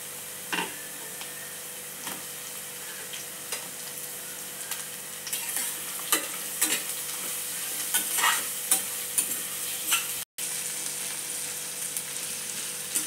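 Onion and potato are sautéed in a pan for khichdi, a low, even sizzle under regular spatula scrapes and taps that ticks on steadily, with a momentary gap partway through.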